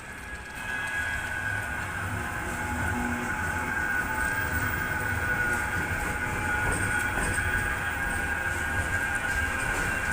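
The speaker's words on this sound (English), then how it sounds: "Just looking at tram 3030 leading a double set to Altrincham." A Manchester Metrolink double-set tram led by car 3030 rolls steadily past in city-centre streets, a continuous loud rail rumble with faint wheel squeal and hum lasting throughout.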